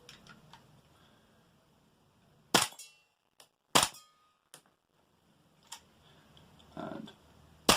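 An airsoft TM rifle fitted with a SureFire RC2 tracer unit fires a few single semi-auto shots, each a sharp snappy crack with a brief metallic ring, spaced a second or so apart against a quiet room.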